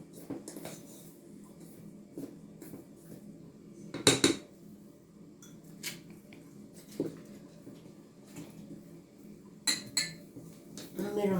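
A utensil scrapes and clinks against a bowl while zlabia batter is mixed, giving irregular soft stirring sounds with a few sharper metallic taps near and close.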